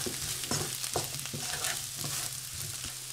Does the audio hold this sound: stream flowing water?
no